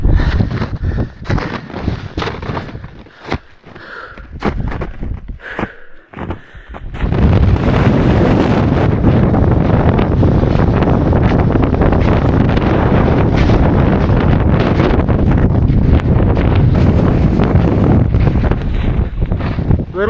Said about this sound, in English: The wind was freaking ripping up there.